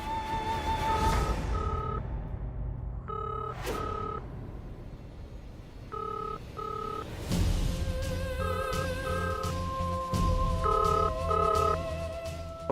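Repeated electronic ringing tones in short double bursts, steady and fairly loud, recurring over a low rumbling background with no talking.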